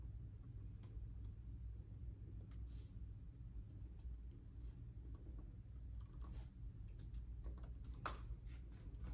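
Soft, quick keypresses tapping out a serial number on a touchscreen or keypad while setting up a Pioneer DMH-WT7600NEX head unit in a Toyota Tacoma, faint clicks over a low, steady background hum.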